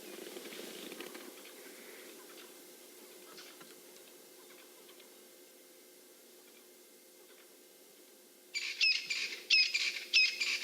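Francolins calling in the bush where a young leopard wanders, harsh repeated bird calls bursting in near the end after a faint, quiet stretch of ambient sound.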